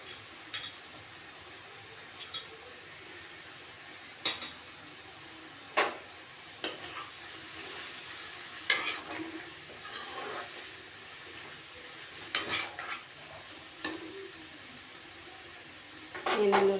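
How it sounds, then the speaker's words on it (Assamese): Chopped raw onions tossed into a pan for boiled chicken, sizzling faintly with scattered scraping stirs and clinks of a utensil against the pan, moderately close with a steady low hiss underneath. "ইয়াতে এতিয়া দি দিছোঁ পিঁয়াজখিনি"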